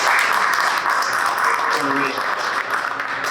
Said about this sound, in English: Can we give Bobby a clap,